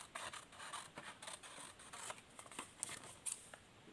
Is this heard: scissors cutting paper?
yes